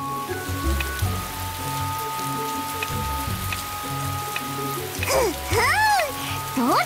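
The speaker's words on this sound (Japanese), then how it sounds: "さあ雨よ降れ。" Steady rain hisses and patters throughout under sustained musical tones, and a voice with swooping, sing-song pitch joins near the end.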